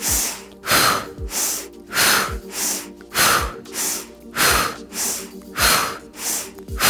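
Rapid rhythmic yoga breathing during a vinyasa flow class: about eight to nine strong, close nasal breaths, each a sharp inhale-exhale cycle repeated at a quick, steady pace, with no talking.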